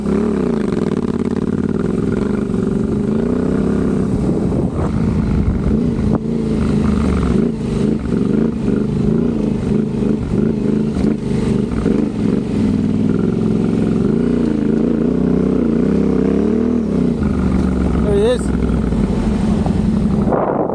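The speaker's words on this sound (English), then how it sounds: "I'm about to give it some revving." A motorcycle engine revs and roars up close for a sustained stretch in a Moroccan dune field, its pitch rising and falling with repeated throttle bursts and some clattering.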